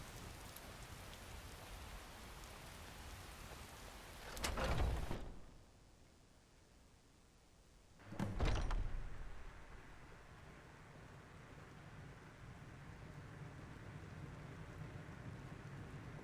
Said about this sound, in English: I love that mod that has the rain hitting the roof.